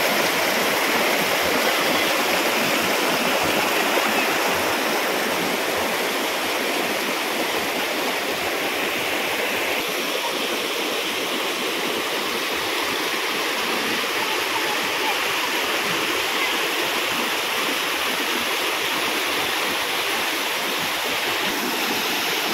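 Vadattupara waterfall roars with a dense, steady rush of falling water that fills the air without a break, close and loud throughout.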